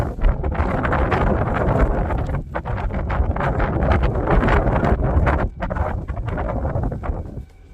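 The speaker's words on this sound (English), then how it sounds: "Oh, what a breeze." Strong gusts of wind buffet the microphone in a continuous rushing roar above an abandoned turnpike tunnel, with brief dips and rustling, and no talking.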